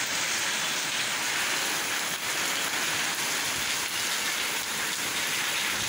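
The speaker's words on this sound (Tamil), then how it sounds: "குட்டி குட்டி குட்டி குட்டியாக அது நூல் நூலாக விழக்கூடிய அந்த மழையினுடையது அவ்வளோ நல்லா இருக்குதுங்க" Light rain falls in fine threads, giving a soft, even hiss of countless small drops pattering on surfaces, steady and unbroken throughout with slight swells in density.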